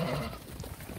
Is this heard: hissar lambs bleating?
yes